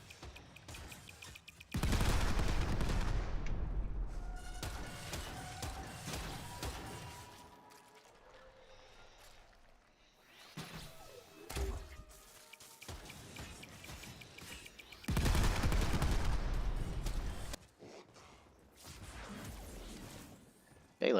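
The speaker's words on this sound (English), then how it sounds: "Eviscerators will sometimes pull out a Tonkkatt to do a devastating grenade volley." Warframe Eviscerator enemy firing a Tonkkatt grenade volley, two loud stretches of crashing blasts separated by quieter whooshes and scattered impacts.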